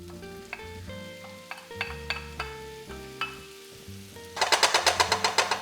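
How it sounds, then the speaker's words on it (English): Chopped onion dropped into melted butter in a hot pan, with a few clinks of a utensil on the pan before a loud, rhythmic bubbling sizzle takes over, close and unvoiced. "We're going to let that just saute for a few minutes until those onions get a little bit brown"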